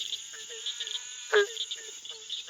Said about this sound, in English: A couple more barking tree frogs over here.